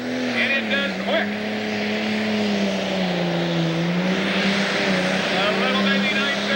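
A 10,000 lb Pro pulling tractor at the 1996 Taylorville, Illinois pull revs its engine at the start of a run: a loud, steady roar with a wavering pitch, and someone talks over it throughout.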